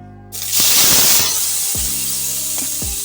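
Tomato hits hot refined cooking oil, setting off a sudden loud hissing sizzle that bursts at once and then settles into steady frying close by, with no talking.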